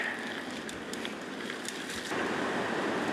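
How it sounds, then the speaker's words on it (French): Wind rushes steadily through trees beside a mountain bike trail at Boca do Risco, a soft, faint broadband wash with a slight swell near the end. "C'est vraiment venteux, on l'entend dans les arbres"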